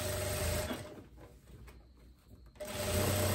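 A sewing machine stitches a long dress with short sleeves and an elastic waist, running in a steady close whir that eases off briefly in the middle before picking back up at full speed.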